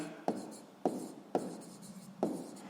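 A pen writes a math answer on paper in four short, crisp strokes, spaced about half a second apart, close and alone.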